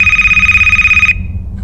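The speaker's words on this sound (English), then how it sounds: "Oh, it's the Nokia phone." A Nokia phone ringing in a horror video game gives a loud, fast electronic trill with a single steady pitch for about a second, then cuts off abruptly into quiet background.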